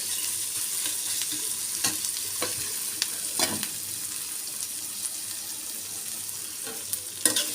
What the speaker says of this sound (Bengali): এই আলু পুরির জন্য পেঁয়াজটা একটু ভালো করে ভেজে নিব